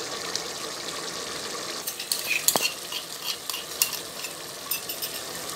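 Spices such as turmeric and dry chili fry in oil in a pan for haleem, a steady sizzle with frequent spoon stirs and scraping clicks running through it.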